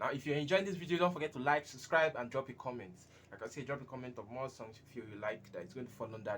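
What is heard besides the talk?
No distinct noise like a dog, phone or traffic.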